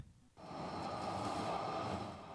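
A wind-powered commuter train passes with a steady, broad rumble and hiss that swells quickly and holds at moderate loudness, with a faint high whine running through it.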